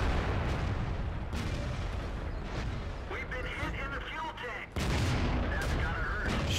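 World of Tanks battle gunfire comes as dense, booming shots and rumbling impacts that continue throughout, with players talking over the fighting.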